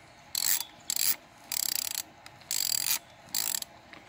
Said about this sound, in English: Now put your hand on it, start cranking.